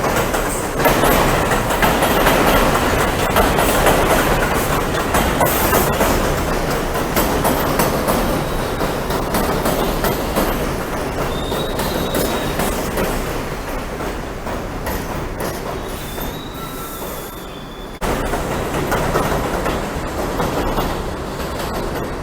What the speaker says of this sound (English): a Brooklyn Bridge bound 6 train coming around the curve and speeding into the Whitlock Avenue station